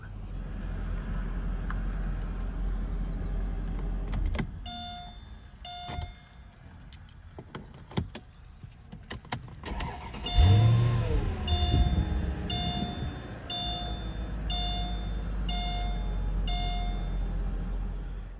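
Several clicks and clunks, then a Mercedes-Benz R230 SL engine cranks and catches after an EGR valve replacement, settling into a low idle while a repeating beep chimes over it.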